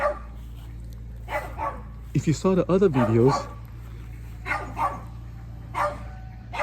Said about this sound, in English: the dog is barking like crazy